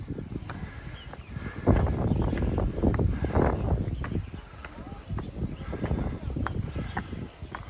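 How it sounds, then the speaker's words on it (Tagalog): Wind on the Kai Kung Leng mountain hike rumbles across the microphone in low, uneven gusts, moderately loud, while hikers chat over it. "Sarap ng hangin."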